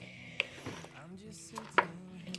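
Homemade apple butter stirred in a crockpot: a utensil gives a few faint clinks and scrapes against the crock, under a quiet voice.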